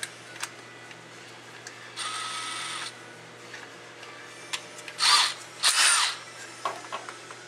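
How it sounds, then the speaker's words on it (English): A step drill bit cuts a hole, following a pilot hole, during a Holley Sniper install, heard as several short whining bursts of the power drill separated by quiet pauses and small clicks, close up and fairly loud. "Now I've got a step bit I'm going to use."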